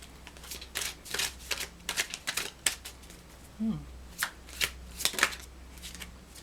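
Tarot cards being shuffled by hand, a run of crisp papery riffles and flicks in irregular bursts, close and fairly quiet with no talking.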